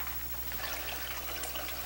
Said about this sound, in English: We have the water coming in, coming out, hitting against this diffuser plate, which is working pretty well.